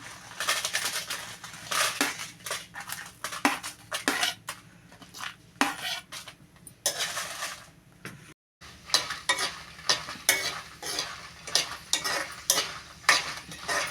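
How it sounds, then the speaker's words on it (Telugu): Dried red chillies frying in oil over a low flame, stirred steadily with a ladle: repeated scraping clinks of metal on the pan in an even rhythm over a soft sizzle, close up and without speech. "ఇలా నీట్గా తిప్పుకోవాలండి సిమ్లో పెట్టుకుని తిప్పుకోవాలి"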